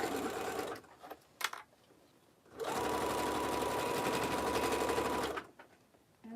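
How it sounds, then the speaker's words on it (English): Sewing machine stitching fabric for a belt bag: a short burst of stitching, a pause with small handling sounds, then a long steady close run of loud machine whirring before it stops. "Put your needle, or so your foot back down, and you just continue on."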